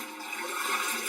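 Water pouring steadily into a bucket in the Homesick video game, a continuous hissing splash that stays fairly even and close for about a second with no talk.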